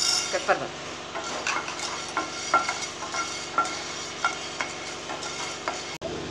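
Spices dry roasting in a pan for sambar masala powder, stirred with a spatula that makes repeated light scraping and clinking strokes over a low, steady crackle, close and fairly loud.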